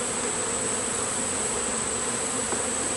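Steady dense buzzing of many honeybees fills the air during a September hive inspection, a continuous close drone with no break across the few seconds.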